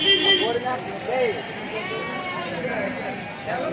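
At the Kadiri goat and sheep market, goats give several wavering bleats that blend with people talking and general market bustle.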